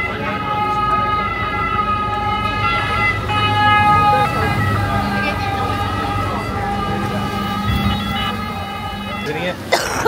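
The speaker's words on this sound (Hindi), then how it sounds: "मेरे ख्याल में एम्बुलेंस वाली शिप आ रही है इमरजेंसी में" An ambulance boat's wailing siren sounds steadily from a moderate distance on a Venice canal, its tone rising and falling over engine rumble, with people talking underneath.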